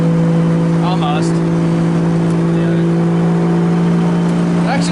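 A 2JZ-swapped Nissan 240sx drift car cruises on the interstate, its engine holding a steady loud drone with road noise inside the cabin, and a voice is heard at moments.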